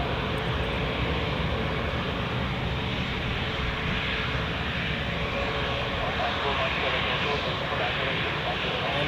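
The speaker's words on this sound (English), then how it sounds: "The first one has already started up the engines." Jet engines of a Helvetic Embraer spooled up on the ground at Zurich airport, a loud continuous broadband rumble holding steady throughout, with a voice talking faintly beneath it.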